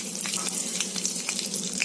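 Cinnamon, black cardamom, black pepper and cloves sizzle in hot oil in a kadhai, making a close, continuous crackling hiss with small bright pops.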